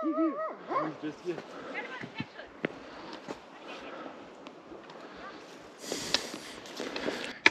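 A dog barks, yips and whimpers from behind a tree along a hiking trail, the sounds short and scattered at moderate distance while people talk throughout.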